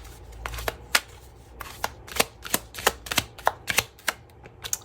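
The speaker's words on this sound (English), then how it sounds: "so I'm going to pull 5 cards from here." Tarot cards shuffled and snapped from a deck, a quick run of sharp crisp flicks and slaps, close and fairly loud, with a soft rustle between them.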